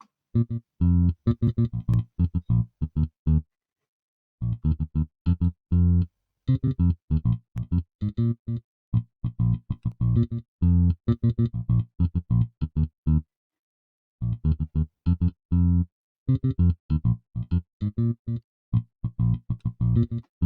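Synth bass line from an Afrobeats-style beat, playing alone in short, punchy repeated phrases with a gritty, distorted edge, pausing briefly between bars.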